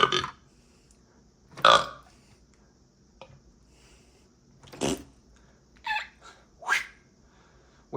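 Several loud burps after drinking juice, five or six separate belches spaced irregularly across a quiet background, each short and close to the microphone.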